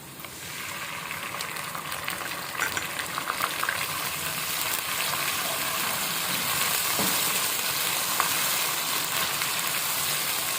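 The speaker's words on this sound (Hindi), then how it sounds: "खूब अच्छी तरह से भुनाई करें" Ginger, garlic and green chilli paste sautéing in a pan for a whole moong dal dish, a steady dense sizzle throughout with occasional scraping stir clicks, close and fairly loud, no talking.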